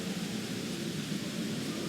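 Steady hiss of rain with a low rumble of thunder in GTA Vice City, a constant, even wash of sound with no voices.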